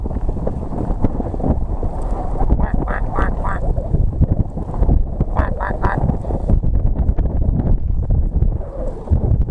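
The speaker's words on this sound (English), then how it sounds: "she got duckies." Ducks quack in short clustered bursts beside a jetty, over steady gusting wind buffeting the microphone, with a voice speaking now and then.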